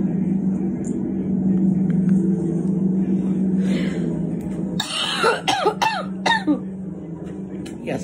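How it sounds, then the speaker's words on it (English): A person coughs in several sharp, harsh bursts in the later half, close to the microphone, over a steady low hum during a grocery shopping trip. "Yes, I'm still coughing."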